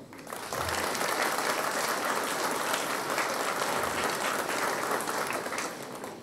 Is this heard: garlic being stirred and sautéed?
no